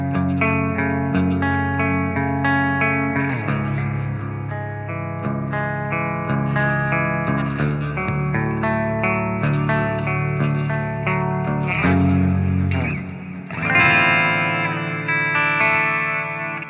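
GOC Guitars Illumina MTLX seven-string headless electric guitar on the bridge pickup, with a wet, echoing delay and reverb wash, chords and notes ringing out continuously and blending into a sustained, spacious tail.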